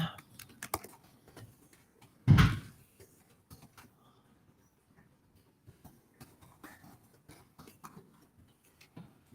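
A computer keyboard is typed on in quiet, irregular clusters of soft clicks, broken by one louder thump or cough partway through.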